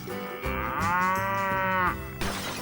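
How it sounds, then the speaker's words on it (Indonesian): A cow gives one long, loud, drawn-out moo with a rising then steady tone, heard alone at close range. "Ini adalah sapi teman-teman."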